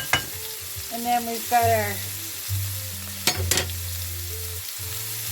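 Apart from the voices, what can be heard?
onions and mushrooms frying on a cooktop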